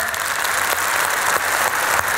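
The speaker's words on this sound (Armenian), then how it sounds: "եկեք ծափահարենք" An audience at a stand-up comedy show applauds for a birthday guest, a steady, dense clapping that holds at an even level throughout.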